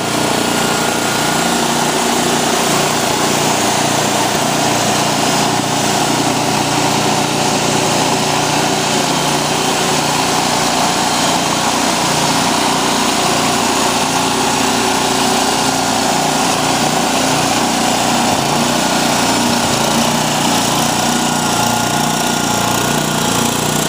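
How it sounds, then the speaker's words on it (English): Honda Harmony H2113 lawn tractor with hydrostatic drive, its small engine running at high throttle in a loud, steady, unbroken buzzing drone that holds for the whole stretch with no voices. "That's your good old Honda Harmony 2113 hydrostatic transmission drive."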